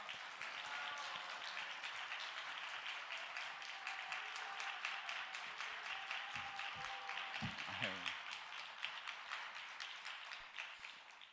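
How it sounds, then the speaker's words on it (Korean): Church congregation applause welcoming a lawyer to the stage at a national fasting prayer gathering, steady clapping throughout with a voice speaking faintly under it. "우리 변호사님 나오실 때 큰 박수로 우리 환영하겠습니다"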